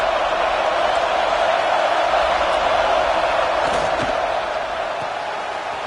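A stadium crowd at a Florida State vs SMU college football game roars steadily on a third down, a dense loud wash of cheering that holds throughout and eases slightly at the end.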